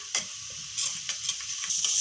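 Eggplant pieces, salted and marinated beforehand, sizzle in hot oil in a pan while being stirred, with a steady frying hiss broken by several scraping stir strokes, close and alone.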